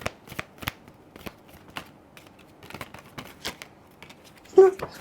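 Tarot cards being shuffled by hand, a run of crisp riffling clicks and flutters in an irregular rhythm, close and fairly quiet, ending in a louder slap as the deck comes together.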